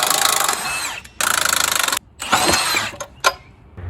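Power tool, likely an impact driver, removing upper control arm link bolts on a rusty 1998 Jeep Wrangler TJ being parted out, running in loud close bursts with short pauses and a sharp final hit.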